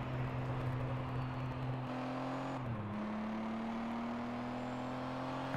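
BMW race car engine from Gear Club Unlimited 2 droning at a steady high pitch during a rolling start, with a brief gear-change dip midway before settling into a constant hum; no speech.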